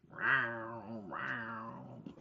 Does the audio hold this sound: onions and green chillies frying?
no